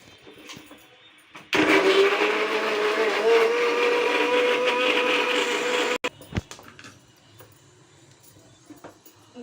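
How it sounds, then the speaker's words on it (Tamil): A kitchen mixer grinder blends chopped tomatoes for crab gravy, a loud steady whirring roar that starts abruptly, runs for about four seconds, then cuts off into quieter room noise. "தக்காளி இப்போ அரைக்கலாம்."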